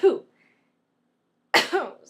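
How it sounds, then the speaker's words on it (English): Two short, sharp bursts like a sneeze cough, close and fairly loud, separated by more than a second of silence. "It was like a sneeze cough."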